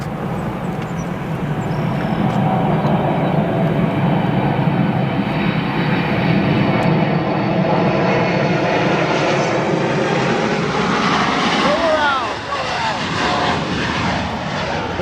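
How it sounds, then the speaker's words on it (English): A Boeing 747 in Kuehne+Nagel livery makes a go-around at O'Hare, its jet engines a loud, sustained roar that swells and shifts pitch across the pass, with people talking over it. "We have a 747 go around that Q and Nagel livery"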